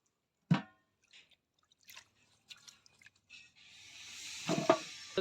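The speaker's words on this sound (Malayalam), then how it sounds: "നമ്മുടെ ബീഫ് നല്ലതുപോലെ ഒന്ന് കഴുകിയെടുക്കാം ഒരു മൂന്നാല് വെള്ളത്തിൽ കഴുകണം കേട്ടോ" Raw beef being washed in water in a home kitchen for beef and tapioca biryani: a sharp wet slap, a few scattered splashes and squishes, then a steady rush of running water with louder sloshes near the end, close up.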